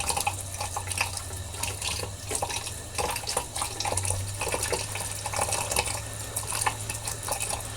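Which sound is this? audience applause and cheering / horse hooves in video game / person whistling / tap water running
tap water running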